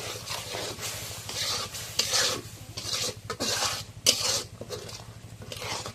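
Spice paste of ground garam masala and ginger with salt is stirred in a frying pan, a spatula scraping in rhythmic rasping strokes about twice a second over a low, even hum.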